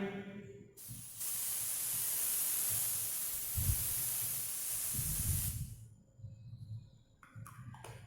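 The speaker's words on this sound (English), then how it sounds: "See, I am spraying." A deodorant aerosol can sprays in one long, loud hiss lasting several seconds, preceded and followed by quiet handling noises.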